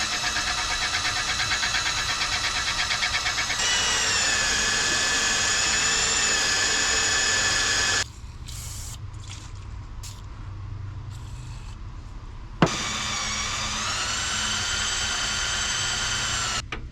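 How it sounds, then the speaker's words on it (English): A high-pitched power drill whines steadily drilling out broken bolts, pauses briefly with lighter rattling, then starts again with the motor winding back up. "so I'm going to try drilling them out."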